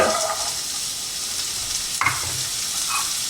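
Continuous close sizzling of carrots in a skillet fills the clip, with a brief clatter of utensil against pan partway through.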